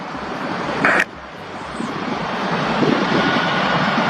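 A general aviation airplane takes off, its engine a steady broadband roar that builds gradually over several seconds, with a brief louder burst near the start and no voices.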